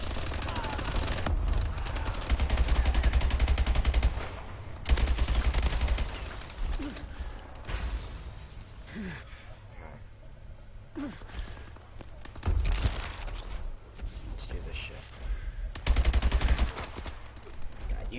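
Rapid bursts of automatic gunfire from a Call of Duty match crackle in loud clusters separated by quieter stretches, with occasional thuds between the volleys.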